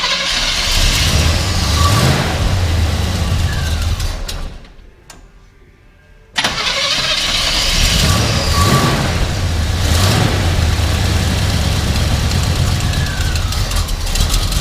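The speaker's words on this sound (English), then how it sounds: "So go ahead and fire it, and let's see what happens." A 1972 Chevrolet Chevelle SS 350 V8 fires up and runs loud and close, stumbles and dies for about two seconds, then catches again and keeps running steadily.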